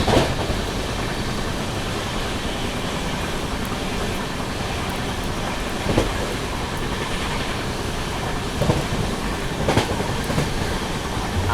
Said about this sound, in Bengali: আমাদের ট্রেনটা কানপুর স্টেশন থেকে ছেড়ে দিয়েছে